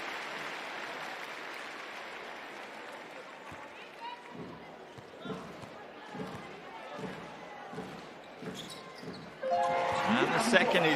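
A basketball bounces rhythmically on a hardwood court as a EuroLeague Women player lines up a free throw, the dribbles spaced and moderately near under an arena crowd murmur, ending in a swell of applause and cheering.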